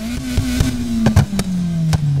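Car exhaust in the racing video game Need for Speed Heat: a steady engine drone sags slightly in pitch while sharp, loud exhaust pops and crackles burst out irregularly, about eight in two seconds.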